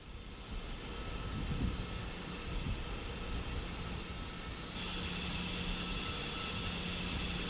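In Microsoft Flight Simulator, an Antonov AN-225's APU runs with a loud, steady broadband roar while an engine spins up beneath it, and the noise steps up to a brighter, louder whine partway through.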